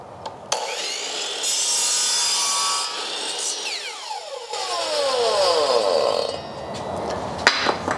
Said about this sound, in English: you don't have to have a chop saw like this to do the job